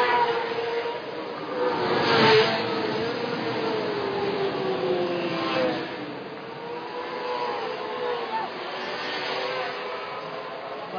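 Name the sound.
4-stroke 250cc race motorcycles at the Colombo Night Race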